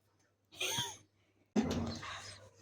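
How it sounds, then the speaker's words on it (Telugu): A dog whimpers in two short, plaintive bursts separated by silence, close by, with another cry starting at the end. "కుక్క"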